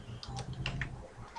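Someone types quickly on a computer keyboard, keys clattering in a dense, close, continuous run of clicks with no talk.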